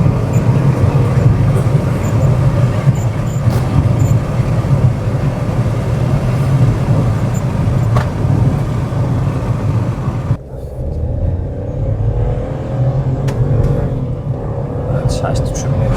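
A Chevrolet Tracker 2 running on methane is test-driven, its steady engine and road rumble continuing throughout, with a brief shift in the cabin sound about two-thirds of the way through and voices in the car.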